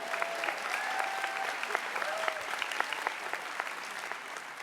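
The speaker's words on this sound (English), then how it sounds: "You can applaud for that." An audience at a Unitarian Universalist General Assembly worship service applauds, dense sustained clapping from many hands in a large hall, steady throughout and heard from some distance.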